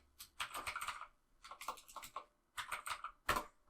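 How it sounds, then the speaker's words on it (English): Computer keyboard keys click in quick, close-miked bursts of several presses, with short pauses between groups and no talking. "if I just press C on my keyboard to get a comment"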